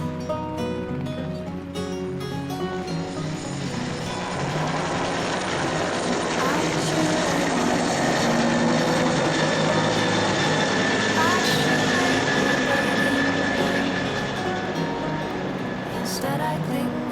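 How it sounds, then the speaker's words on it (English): A helicopter's rotor thumps and engine whine build and hold loud and close, with voices faintly mixed in. "I stood there watching the helicopter rise."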